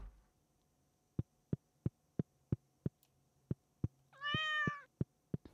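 In the Stardew Valley farming game, a pet cat gives a single clear meow over a steady series of soft ticking pulses and a low background hum.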